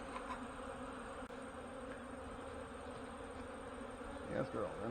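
Honey bees buzz around a hive during a busy cleansing flight, making a dense, continuous drone nearby, with individual bees swelling louder as they pass close near the end.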